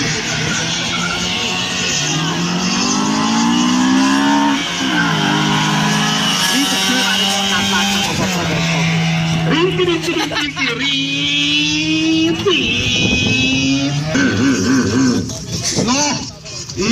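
Small Trabant car accelerating at a drag race event in Fertőszentmiklós, Hungary, its buzzing two-stroke engine rising in pitch through several gear changes, loud and close, with people talking over it.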